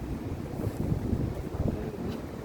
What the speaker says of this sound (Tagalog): Tsaka mahangin, presko.